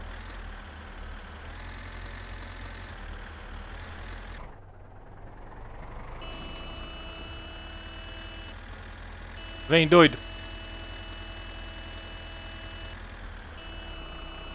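A tractor engine in My Summer Car drones steadily while towing a car, with a dip and then a rising pitch as it pulls, and a brief clattering burst partway through; someone talks over it.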